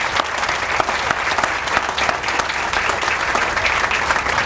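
A crowd at the groundbreaking for the Lenexa Civic Center project gives the speakers a sustained round of applause, dense, even clapping heard close and loud throughout.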